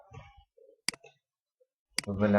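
Two sharp mouse clicks, widely spaced, start a screen recording program on a computer, with a speaking voice heard before the first click and again right after the second.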